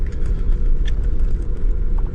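A car grinding up a steep mountain road at around 4,400 m altitude in low second or third gear, a loud, steady engine drone and road rumble heard from inside the cabin, with no talk.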